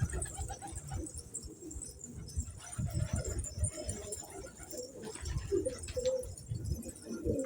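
Pigeons in a loft with newly hatched squabs give low, throaty coos in repeated bursts close by, with faint rustling and shuffling between calls.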